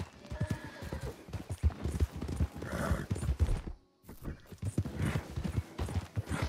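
Horse hooves clip-clop in a quick, steady rhythm, close and fairly loud, with a brief whinny and a short silent gap midway, in the video game Red Dead Redemption 2.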